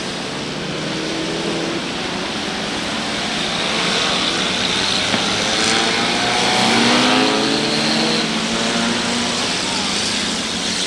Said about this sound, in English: Fast pace being set through the turns as Mark Gear looks to send the field off for the 50-lap mini stock main event